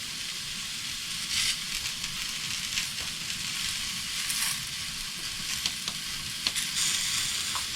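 Spices go into garlic frying in a pan on a narrowboat stove, giving a dense, steady sizzle with faint scraping stirs and occasional soft clicks, close up and continuous.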